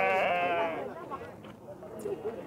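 A goat bleats loudly and close at a goat and sheep livestock fair in Guarabira, Brazil, a single drawn-out quavering cry that fades into fair noise with people talking nearby.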